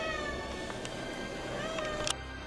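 A house cat meows indoors, a faint drawn-out tonal meow with a brief sharper call near the end, heard alone at low level.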